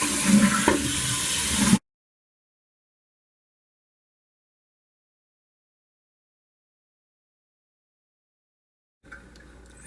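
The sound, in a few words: toilet flushing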